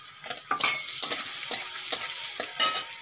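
Chopped garlic and ginger sizzling in hot oil, with bright crackling spatter and a utensil stirring in repeated short scrapes, close and fairly loud, with no voices.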